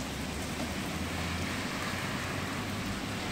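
Steady rain pours down outdoors in DHA 1, Rawalpindi, a dense continuous hiss of drops hitting surfaces, loud and even throughout with no voices.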